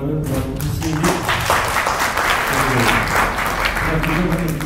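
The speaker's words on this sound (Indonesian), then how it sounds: "Tepuk tangan buat Musi." Audience applause at an art-competition outreach talk, a dense burst of clapping that swells and holds for several seconds, with a voice briefly heard beneath it.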